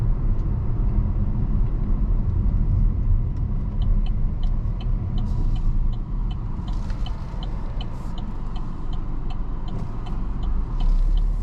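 A 2025 Chevy Trailblazer RS three-cylinder engine under acceleration: a steady, low road and engine rumble holds throughout, with faint ticking and light cabin noise on top and no talk.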